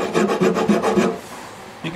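A rough rasp files finish off a custom 12-string dreadnought guitar body, producing a few quick, close scraping strokes followed by a pause and one more short rasp.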